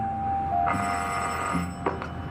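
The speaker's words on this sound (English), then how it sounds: "at long last, the phone rang." A telephone bell rings as a radio drama sound effect, a steady sustained ring with a brief break and a couple of sharp clicks near the end, heard alone without voices.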